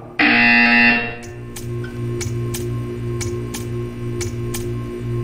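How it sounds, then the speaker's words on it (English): A loud buzzer tone from the Portal 2 video game sounds for about a second, then gives way to a low steady hum with a regular series of faint ticks. "You will hear a buzzer. When you hear the buzzer, stare at the art."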